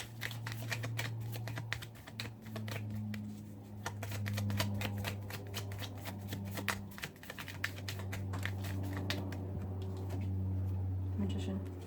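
Tarot and oracle cards are shuffled with rapid, dense riffling clicks that run throughout, under a steady low hum.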